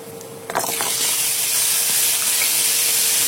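Steady sizzling and hissing from a hot pan as coconut chicken curry is stirred, with potato pieces frying, a few brief scraping clicks near the start and then a continuous close hiss.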